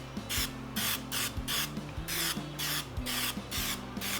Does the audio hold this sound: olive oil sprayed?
yes